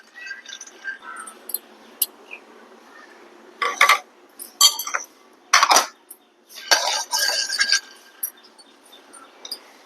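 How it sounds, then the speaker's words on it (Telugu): Peanuts roasting in a dry pan, rattling and scraping in irregular bursts as they are stirred, with sharp clinks against the metal and quiet gaps between. "మళ్ళీ ఇదే ప్యాన్లోకి మనం పల్లీలు వేసుకుందాం"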